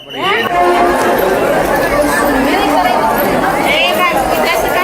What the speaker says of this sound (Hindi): सैकड़ों हजारों लोगों की भीड़ थी